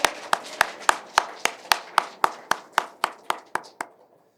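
Congregation clapping in unison at a church service after a choir's hymn, sharp evenly spaced claps about three per second, close and distinct, slowly fading in strength over roughly fifteen beats.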